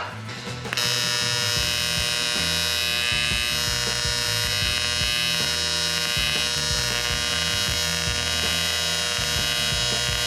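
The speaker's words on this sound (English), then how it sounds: "then weld them up." Two clamped metal pieces are welded together for the interior of a 1940 Chevy truck, a steady electric buzz with a pulsing low throb that starts after a brief quiet moment and runs on without pause.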